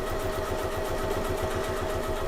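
An Elna 780 Plus sewing machine stitching a bag, a steady rapid mechanical whir with fast rhythmic needle ticking, close and continuous with no talk.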